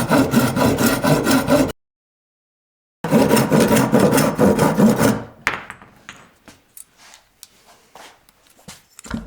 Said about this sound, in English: So I found this piece of hardhack. All I'm gonna do is saw the end off.